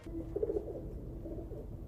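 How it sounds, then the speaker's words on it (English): A pigeon coos softly in a scene from the film Hard Target, a few low throaty notes near the start over a quiet background rumble. "From Van Damme's special moment with a pigeon"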